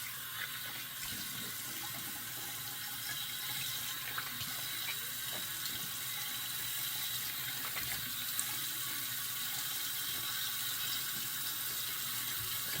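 Steady water streaming from a tap into a sink as a razor is rinsed, a continuous even hiss lasting throughout with faint clinks beneath.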